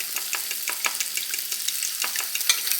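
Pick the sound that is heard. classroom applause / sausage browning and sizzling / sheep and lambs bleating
sausage browning and sizzling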